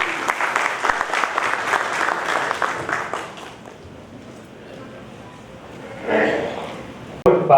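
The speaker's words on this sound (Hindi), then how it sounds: "तालियों से स्वागत किया जाए" An audience at a Rotary Club gathering claps loudly to welcome a guest; the dense applause lasts a few seconds, then fades into quiet room murmur before a brief louder stir.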